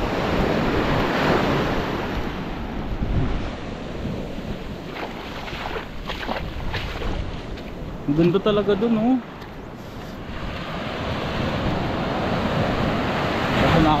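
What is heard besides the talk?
big ocean waves crashing on a beach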